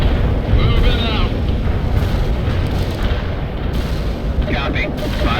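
Artillery barrage in the World in Conflict strategy game, a dense, continuous rumble of booming shell impacts filling the whole stretch, loud and close, with radio-style voices talking over it.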